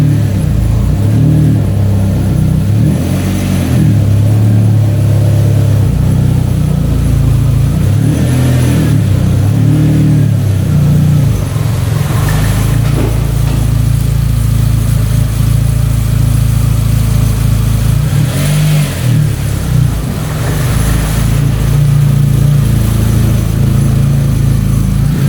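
An Audi engine idles and revs in repeated bursts as the car is driven slowly onto a workshop hoist, loud and close, with a low rumble between throttle blips.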